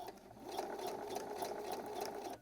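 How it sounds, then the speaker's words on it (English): A sewing machine runs steadily and fairly quietly while stitching around the raw fabric edges of a hat for a costume, with a continuous rapid whirring hum that stops abruptly at the end. "So I'm making sure I'm just sewing the raw edges and not any other part."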